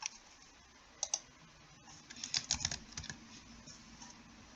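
Light, quick keystrokes on a computer keyboard while looking up an approved gene name or symbol, heard as sparse clicks at first and then a short, denser burst of typing, near and fairly quiet.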